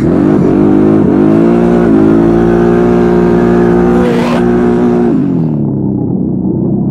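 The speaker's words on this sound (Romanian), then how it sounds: "Hai să facem un drift aici, să auzim evacuarea." An ATV's exhaust roars loud and close while it drifts. The engine holds a sustained throaty note, then briefly swells and drops off as the throttle eases.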